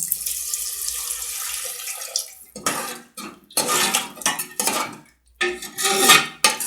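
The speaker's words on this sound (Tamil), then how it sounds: "தண்ணி ஊற்றிருக்கேன்" Water poured from a tumbler into a pot of rice while cooking bachelor-style kushka, with clattering pot and utensil knocks in short, close bursts separated by brief pauses.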